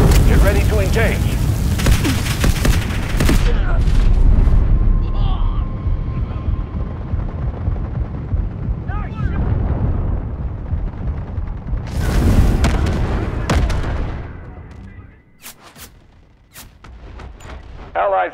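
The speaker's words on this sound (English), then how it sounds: "Artillery cover coming." Artillery fire in the Delta Force video game: a heavy, continuous barrage of booms and rumbling blasts, loud and close at first, then a sharp new volley before the noise drops to scattered cracks.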